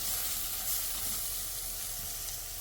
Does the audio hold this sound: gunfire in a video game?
no